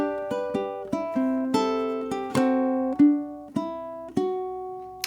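Ukulele strumming the Addams Family theme bars with an alternate ending, about a dozen crisp, close, plucked chords and single notes in a bouncy rhythm, played alone with no voice.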